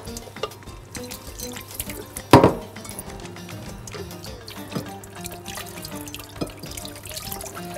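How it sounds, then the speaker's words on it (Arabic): Water runs from a tap and splashes in a sink as hands are washed, with a sharp burst of splashing partway through and faint clinks. "انا بس عايز اغسل ايدي عشان لو فيها ايه"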